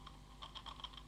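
Soft, quick keystrokes on a computer keyboard while correcting a typo in an Excel spreadsheet, a short irregular burst of clicks, faint and close.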